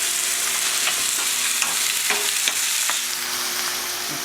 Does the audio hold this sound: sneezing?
no